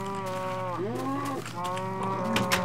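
A cow in a farming video game gives a long, drawn-out moo with a rising and falling pitch, heard up close over a faint steady background hum.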